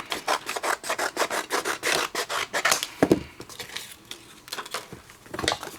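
Paper being trimmed for card making, a quick series of rhythmic scraping, rasping strokes, close and fairly loud, then a few slower cuts, with no one talking.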